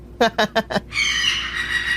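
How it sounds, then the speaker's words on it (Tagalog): A crow gives four short, harsh caws in quick succession, close and fairly loud, followed by a steady hiss of background noise at night. "Uwak ba yun?"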